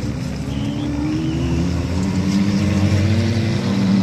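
A car engine drones and revs at a destruction derby race at Ringwood Raceway, a steady mid-range rumble rising slightly toward the end, with no clear voices.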